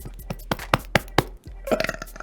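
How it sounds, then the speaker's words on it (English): A man's repeated burping, several short loud eructations in quick succession, close to the microphone while he plays a Call of Duty Zombies session, followed by a brief burst of other noise. "Oh man, I got like a burp in my chest."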